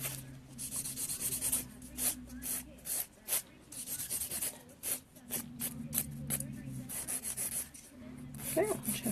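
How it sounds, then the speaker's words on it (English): Short bursts of scraping file strokes on gel-coated sculpted almond nails, using 100/180 and 180/240 grit files, rapid and close, with a soft bump against the microphone near the end. "Did a little aggressive filing, hit the camera."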